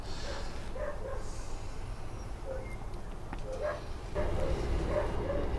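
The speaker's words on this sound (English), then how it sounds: "Gee, the dogs are going off about something." Neighbours' dogs bark in the distance, a scattered run of repeated yips and woofs over a steady low background hiss, getting somewhat louder and busier toward the end.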